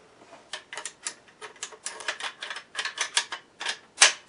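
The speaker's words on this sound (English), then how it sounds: "It wiggles around a little bit, but does lock up pretty nicely on there." Metal clicks and rattles of a Yugo Type 3 bayonet being fitted and locked onto an M70 AK rifle, a dense run of sharp close taps ending in one louder snap, with no talk.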